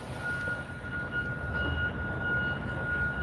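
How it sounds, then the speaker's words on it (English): Water flows through a pipe under a ditch at a bridge-replacement construction site, producing a steady, low rushing rumble with a faint thin tone running throughout. "That's a lot of water flowing through that."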